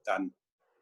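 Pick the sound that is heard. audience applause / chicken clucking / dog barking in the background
dog barking in the background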